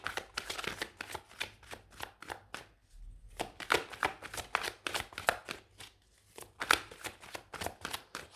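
Tarot cards being shuffled in quick bursts of crisp riffling slaps, with a brief pause partway through before the rapid shuffling resumes, close and clear with no voices.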